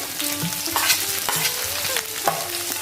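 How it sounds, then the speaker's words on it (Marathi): Onion and green chilli stir-fried in a hot pan for crispy soya chilli manchurian, a loud continuous sizzle broken by repeated scraping stirs of the spatula. "आता आपण आपला कांदा घालूया त्याचप्रमाणे मी मिरची सुद्धा लगेच घालणार आहे"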